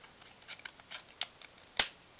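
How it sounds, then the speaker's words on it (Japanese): Scissors cutting through a Tsutaya plastic credit card, several small crisp snips in quick succession ending with one louder, sharper cut, close and otherwise quiet. "カードにハサミを入れます"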